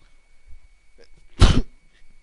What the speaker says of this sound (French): J'ai éternué là, c'était violent.